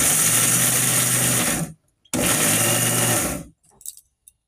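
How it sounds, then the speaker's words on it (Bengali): A kitchen blender whirring loudly as it purées curry leaves with water, running in two steady bursts of about two seconds each with a brief stop between, followed by soft clinks of the jar. "কারি পাতা 7-8টা দিয়ে দেব। জল দিয়ে ব্লেন্ড করে নেব।"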